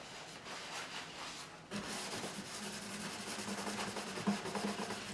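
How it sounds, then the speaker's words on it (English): A cloth wiping between the frets of a Yamaha FG403-MS acoustic guitar during a setup, a close, soft rubbing with a continuous scraping texture that grows a little louder partway through. "We're going to wipe between the frets."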